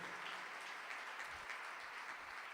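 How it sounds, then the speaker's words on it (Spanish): A church congregation applauds during a live-streamed service, a soft, steady wash of clapping that sounds distant and holds evenly throughout. "Damos un aplauso para ellos, que lo oigan bien fuerte."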